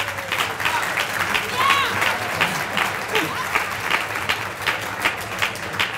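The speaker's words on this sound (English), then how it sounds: "I really just want to give yourselves a round of applause" A band banquet audience applauds steadily, a dense wash of many hands clapping continuously at moderate distance, with a few voices and cheers mixed in.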